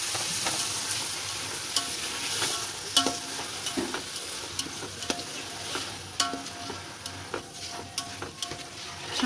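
Onion and tomato masala for chicken biryani sizzles in a hot pan while a spoon stirs and scrapes, a steady close crackle broken by sharp clinks of metal.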